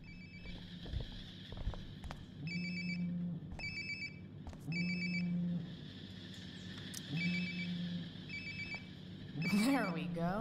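A mobile phone rings nearby in the video game Life is Strange: Before the Storm, its electronic ringtone repeating in short regular bursts with brief pauses, over a low background hum and a few soft footstep-like thuds.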